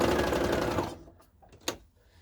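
Sewing machine running down the side seam of a fabric face mask with elastic, a loud close needle rattle that stops abruptly after about a second, followed by a brief click and quiet.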